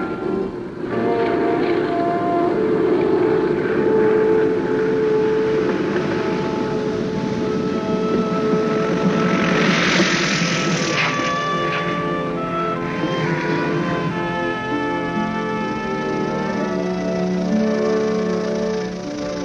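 Small plane banking on final approach to a dirt landing strip in the Alborz Mountains of northern Iran, a steady loud engine drone with harmonic hum throughout, swelling briefly midway, with no talk.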